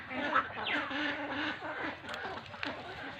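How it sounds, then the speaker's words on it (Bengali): Ducks with red eyes quack in short bursts, fairly close and moderately loud, against a noisy outdoor background in a village park. "এখানে আবার কেমন একটি জাতের হাঁস রয়েছে দেখুন"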